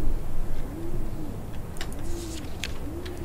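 Birds cooing at night in a video game, soft repeated dove-like coos in a slow rhythm with faint chirps over a steady low background hum.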